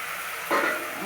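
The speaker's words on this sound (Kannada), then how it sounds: "ಇದನ್ನು ಒಂದು ನಿಮಿಷ ಚೆನ್ನಾಗಿ ಟೊಮೆಟೊ ಮೆತ್ತಗಾಗೋ ತನಕ ಫ್ರೈ ಮಾಡಿದೆ" Chopped tomato is tossed into a pan with browned onion, ginger and garlic for avarekalu uppittu, and a sudden sizzle flares up and then settles into a steady fry.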